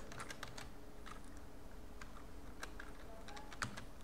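Fingers type on a computer keyboard while entering a salary sheet in Excel, with irregular bursts of close, crisp key clicks and brief pauses between them, no voices.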